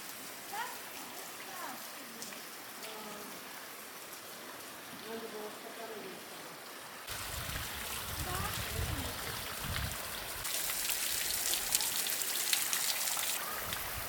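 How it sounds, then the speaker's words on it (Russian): Mountain waterfall beside a cave path, a steady broadband rush of falling water that grows louder and fuller as it comes closer, with people talking quietly over it. "Вот и водопад."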